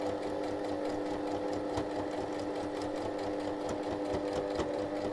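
A sewing machine stitches fabric at high speed, a continuous close mechanical whir with a fast rhythmic needle clatter and no voices.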